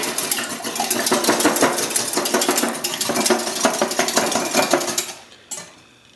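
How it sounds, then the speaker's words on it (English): Eggs being whisked in a bowl at home for an omelet, a fast, steady metallic clatter of the whisk against the bowl that carries on loudly for about five seconds before stopping abruptly. "And grab a whisk. And whisk your eggs together."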